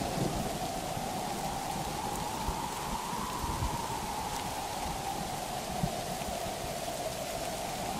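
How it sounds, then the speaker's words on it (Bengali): A violent pre-monsoon storm with rain pours steadily, hissing evenly and continuously, while low thunder rumbles underneath in a dramatized animated story setting. "দোকানের বাইরের জিনিস ভেতরে নিয়ে আসতেই ঝড় শুরু হয়ে গেল। এ তো ঝড় নয়, যেন কিয়ামত।"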